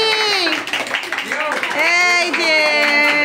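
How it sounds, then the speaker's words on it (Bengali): Hands clap at a family birthday celebration as a gift is handed over, the applause running under lively, overlapping voices that talk and call out throughout. "হাততালি"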